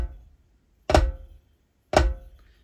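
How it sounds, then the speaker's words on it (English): Two flams struck on a drum, each a grace note landing just ahead of the main stroke, so every hit sounds thickened; the two sharp strikes come about a second apart, close and clear against silence. "A flam is where you have your grace note, that pre-note before your main note, that's very close to the main note."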